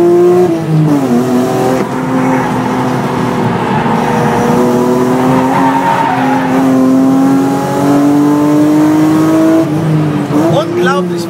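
A car driven hard around a Grand Prix race track, its engine loud and close, rising and falling through gear changes with a brief tire squeal near the end, while a voice talks over it.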